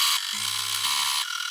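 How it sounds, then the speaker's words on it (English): A sewing machine stitches a pinwheel quilt block, giving a brief steady motor whir of about one second over a hissy background, starting and stopping cleanly. "you're going to put it back to the sewing machine"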